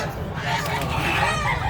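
A chicken clucking amid a noisy, bustling background, with steady din throughout and no clear crow.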